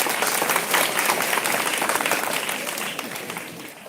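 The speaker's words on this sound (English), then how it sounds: "Let's cheer up for him." An audience applauds at the Spark 2022 stage event, dense clapping loud and close for the full four seconds, tapering slightly toward the end.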